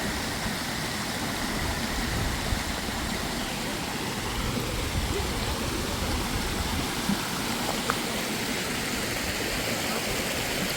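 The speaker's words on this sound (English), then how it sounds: "Now, there's a pretty good creek." A creek in Northern Arkansas flows steadily, a continuous broadband rush of water that holds throughout with no break or change in level.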